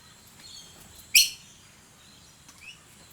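Wild birds at Dr Rom's bird sanctuary chirp in the open air, including one sharp bright call and a few fainter tweets against quiet background.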